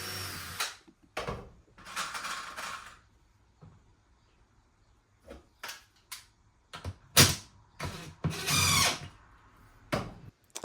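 A power drill drives screws into a French cleat wall in a workshop, with several short whirring bursts separated by pauses, plus some knocks and handling clatter close by.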